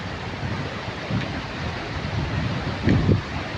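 Fast-flowing floodwater swollen by heavy rain rushes in a dense, continuous roar with low rumbling surges and some wind buffeting on the microphone.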